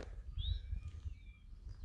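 An eastern towhee calls in woodland at Landis Arboretum, a single faint, brief high note rising over low rumbling background noise.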